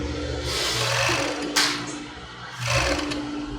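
A sewing machine stitches a padded bra cup in short bursts of rapid mechanical rattling, pausing between runs, close and moderately loud with no talk.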